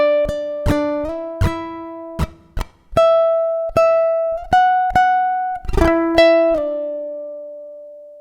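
A ukulele picks out a section of a song as clear single plucked notes and a few strums with ringing sustain, played alone in a steady, unhurried rhythm.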